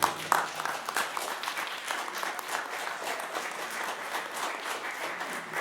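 Steady applause from a council meeting audience, with dense overlapping clapping at an even level throughout, loud and close.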